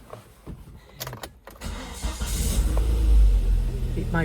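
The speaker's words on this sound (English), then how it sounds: "So we can just start the car" A 2000 Volvo V40 with an automatic gearbox starts up after a transmission oil change: a short cranking burst, then the engine catches and settles into a steady, loud low rumble that builds and holds. No one speaks.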